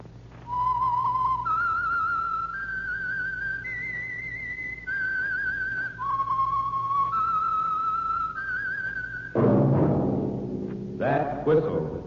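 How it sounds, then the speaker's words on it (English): A lone whistler carries the eerie, stepping theme melody of The Whistler radio program, a 1946 broadcast sponsored by Signal Oil, before an orchestral swell bursts in at the end. "That whistle is your signal for the Signal Oil Program, The Whistler."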